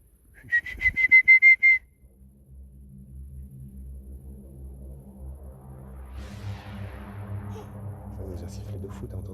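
Sharp whistling echoes through an abandoned building under exploration: a quick burst of several short high whistles, then a low rumbling drone with faint voices underneath.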